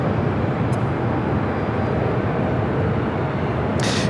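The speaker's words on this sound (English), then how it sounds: "United Airlines Flight 2390 heading to Seattle, a 737 at max 9." A United Airlines Boeing 737 MAX 9 jet at Los Angeles International Airport gives off a steady, loud, broad roar that holds evenly throughout, with brief faint high beeps near the start and end.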